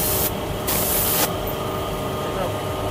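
An airbrush sprays paint during a paint-mixing session, a steady close hiss running throughout with brief brighter bursts near the start, under faint background noise.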